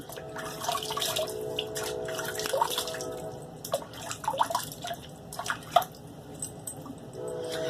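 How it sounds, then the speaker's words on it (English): Water splashes and drips as someone re-wets their face with hot water before shaving: intermittent close-up splashes and small drips over a quiet bathroom background, no talking. "I prepped my face already with hot water for about a minute and a half, but let me re-wet it"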